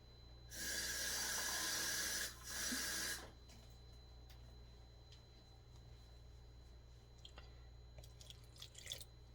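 A short pour of water into flatbread dough, a loud gush lasting about two seconds with a brief break, followed by quiet small drips and faint handling sounds.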